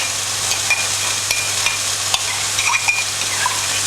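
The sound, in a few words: stirring sauce ingredients together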